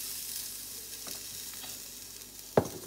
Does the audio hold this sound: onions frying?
yes